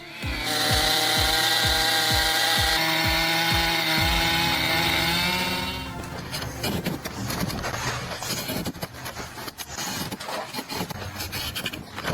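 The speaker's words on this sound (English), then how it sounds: "would you dare to try using a monstrous saw like this?" A huge power saw cuts with a loud, sustained mechanical whine and rhythmic low thumps, then gives way to a rougher, crackling grinding noise as the cut continues.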